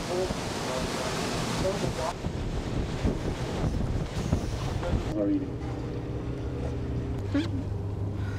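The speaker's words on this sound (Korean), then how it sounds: "수어드항에서 키나이피오르 국립공원을 둘러보기 위해 유람선을 탔다" A tour cruise boat heads out from Seward harbor into Kenai Fjords, Alaska, with a steady engine rumble, rushing water and gusty wind buffeting the microphone throughout.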